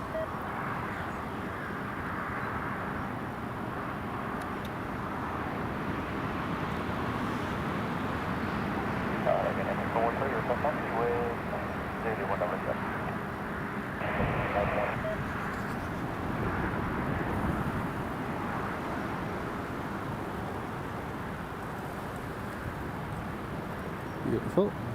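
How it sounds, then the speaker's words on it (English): ATR turboprop airliner passing at Newcastle Airport on a windy day, a steady droning engine roar building gradually with a wind-like wash, while a voice talks over it. "Right, here comes the ATR."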